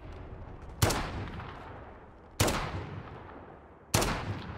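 An MP7 fires in a video game: three sharp, loud single shots spaced about one and a half seconds apart, each followed by a trailing echo that fades out.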